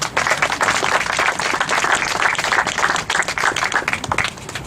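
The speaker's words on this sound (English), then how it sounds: "Let's give him a round of applause." Loud, continuous audience applause at an outdoor school groundbreaking ceremony for Rio STEAM Academy, dense clapping from a crowd sustained for several seconds, tapering slightly at the end.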